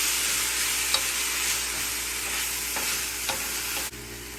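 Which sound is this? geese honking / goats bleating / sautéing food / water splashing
sautéing food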